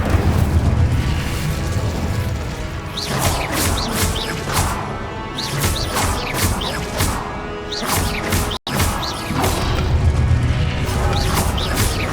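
A fiery Incendio spell blast in Hogwarts Legacy combat comes as dense, continuous booming and crashing bursts of spell impacts and explosions, loud throughout with a brief cut near the end.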